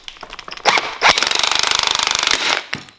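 A rattling impact tool hammers rapidly as it tightens a nut onto a deep socket, drawing a suspension bush into the rear axle of a Sierra Sapphire Cosworth. The close, loud burst runs for about two seconds after brief clanks.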